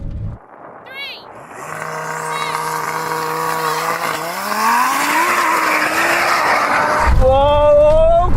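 A Rimac electric hypercar launching hard off the line, a rising electric motor whine climbing steadily in pitch and loudness, with tire squeal and a voice breaking in near the end.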